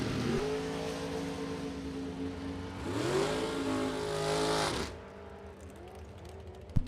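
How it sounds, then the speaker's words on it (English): A drag racing car at a drag strip screams at high revs as the driver works the throttle at the finish line, the engine note wavering and rising before cutting off abruptly, heard fairly distant. "you can hear him working the throttle at the finish line"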